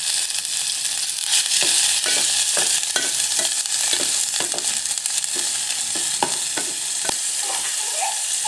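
Steady, loud sizzling of chicken frying in melted unsalted butter with a little olive oil, with scattered crackles and pops throughout and no voices.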